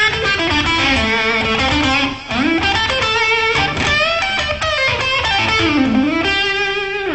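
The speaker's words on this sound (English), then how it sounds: "There's also the blues pentatonic scale, which is pretty popular amongst rock players." Distorted electric guitar runs a bluesy A pentatonic line in a rock style, with bends and finger vibrato, each note ringing clearly and steadily across the phrase with no voice over it.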